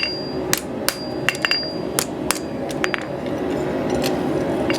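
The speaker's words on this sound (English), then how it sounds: "look how much every single hammer blow marks that inside of that section" A farrier's hammer strikes a hot horseshoe, a front shoe being forged on an anvil: about a dozen sharp metallic clanks in an uneven rhythm, loud and close, with no talking.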